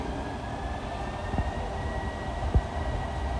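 A steady, loud rumble of an LIRR train arriving at Jamaica Station, with a continuous drone and a couple of brief clanks from the wheels and cars.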